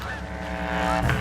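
Honking goose-like calls sound close and loud in a continuous burst, with layered nasal cries overlapping and a louder call near the end, in a story about a duck and geese flock.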